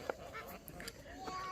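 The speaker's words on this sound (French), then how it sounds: "Regardez toutes ces oies." Geese honking on a farm at dusk, several short nasal calls scattered through the clip, moderately near, with faint background talk and ambient noise.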